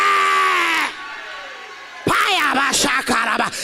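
A church congregation shouts and cries out loudly in response to a French-speaking preacher, a sustained burst of voices after a brief pause in his sermon.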